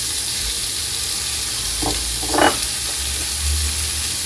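Butter hitting a hot pan beside a steak for steak au poivre, giving a steady sizzle and fry with a couple of brief louder crackling bursts as it melts, with no talk.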